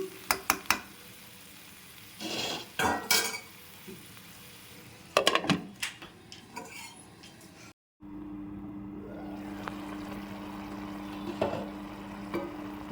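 Utensil scrapes and stirring clatter in a pan of drumstick, tomato and egg curry, then a steady bubbling simmer with a low hum underneath.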